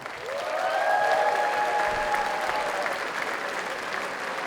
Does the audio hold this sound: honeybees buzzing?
no